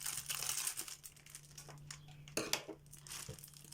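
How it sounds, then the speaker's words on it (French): Plastic sachets of embroidery beads crinkle and rustle close by as they are handled. Short tearing and crumpling bursts come in uneven clusters, quiet and intimate, with no talking. "Que je me méfie de ne pas les couper mes sachets de perles."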